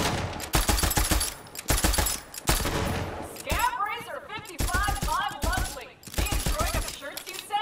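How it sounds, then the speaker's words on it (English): A shotgun fires in Borderlands 3, blasting in rapid heavy bursts. Clattering hits and mechanical reload clicks fill the gaps between shots, close and loud. "this shotgun is a wrecking machine"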